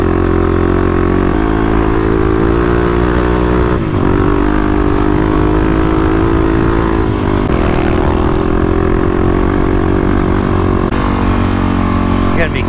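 A 35-horsepower Kawasaki KLX351 dirt bike revs in third gear over sand dune hills, its engine loud and continuous with shifting pitch and a few brief dips as the throttle eases and opens again.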